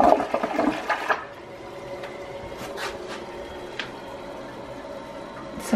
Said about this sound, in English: let me flush it one more time